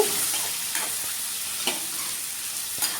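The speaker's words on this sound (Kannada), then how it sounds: "ಇದನ್ನು ಕೂಡ ನಾವು ಚೆನ್ನಾಗಿ ಫ್ರೈ ಮಾಡ್ಕೊಳ್ಬೇಕಾಗುತ್ತೆ" Onion and tomatoes sizzle in a hot pan for idli sambar while a spoon stirs them, a bright steady frying hiss broken by a few scraping stir strokes.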